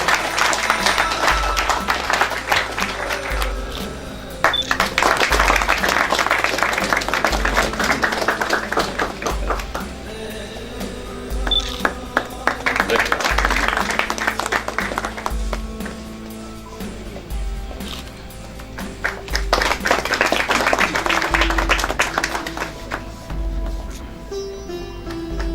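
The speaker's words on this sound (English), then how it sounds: "Big clap for His Excellency." At a painting exhibition, the audience applauds the Belgian ambassador, the chief guest, in recurring waves of clapping that swell and fade over a steady, rhythmic low thumping.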